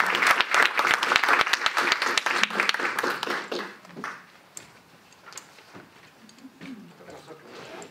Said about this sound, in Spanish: Le damos un aplauso a ambos.